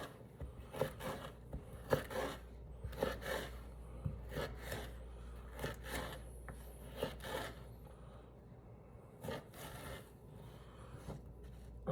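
A brand new kitchen knife chopping vegetables such as red peppers for sofrito, with soft irregular taps and scrapes on a board, fairly quiet and steady.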